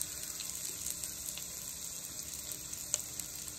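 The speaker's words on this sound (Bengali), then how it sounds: "দেখুন আমি তেল তুলে নিয়েছি, এবার পেঁয়াজগুলোকে আমি দিয়ে দিলাম" Onions and green chillies frying in oil for chire pulao (poha), giving a quiet, continuous sizzle with occasional small crackles throughout.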